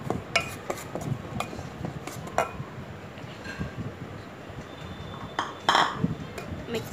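A spoon stirs cardamom powder, ground from ten pods, into semolina sweet adai batter in a kitchen, giving soft, scattered clinks against the bowl over a low scraping background.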